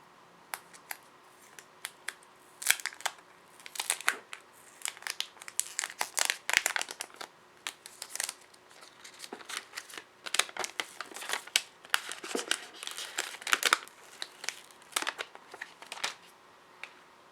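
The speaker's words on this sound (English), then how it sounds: "we should remove this plastic" Thin protective plastic film crinkles and crackles in irregular bursts as it is peeled off a Xiaomi Redmi Note 9 Pro smartphone, close and fairly quiet, with no talking.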